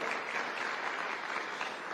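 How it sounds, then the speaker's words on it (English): An audience at a business anniversary event in a Nairobi conference hall applauds steadily, a dense, even wash of clapping from many hands with no voices on top. "And I think you should applaud yourselves for that."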